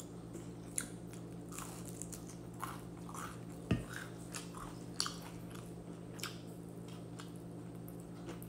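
Crispy fried enoki mushroom crunches with a few scattered bites and chews. One sharper crunch stands out near the middle, over a quiet background hum with no talking.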